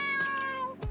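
Momo the cat in the Dave the Diver video game gives a single clear, drawn-out meow, close and prominent, trailing off at the end.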